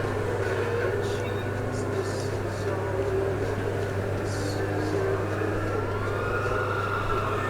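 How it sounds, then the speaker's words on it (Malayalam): A police car siren from the GTA 5 video game wails through steady, dense in-game engine and street noise, with a rising tone near the end. A person talks over it. "സോറി മാൻ, പിന്നെ പോലീസ് വണ്ടി വരുന്നു."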